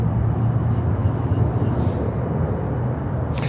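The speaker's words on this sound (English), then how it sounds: "Qatar Airways coming in next with a 350 1000." Qatar Airways Airbus A350-1000 arriving at Miami airport, a steady loud low jet roar that holds throughout without a break, heard close and alone with no voices.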